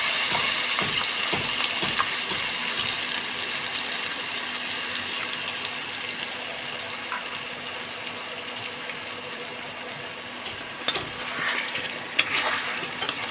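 Turmeric, chilli, cumin, coriander and ginger sauté in a pan for a taro curry, giving a steady close sizzling hiss with occasional small clinks of a utensil.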